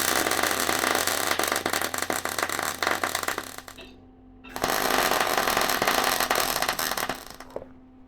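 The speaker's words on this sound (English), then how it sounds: "concentrating most of the weld on the solid piece as opposed to the piece with the 45-degree chamfer on it." MIG welding steel pieces for a firewood bundler produces two long, steady bursts of close, loud crackling buzz, separated by a brief pause.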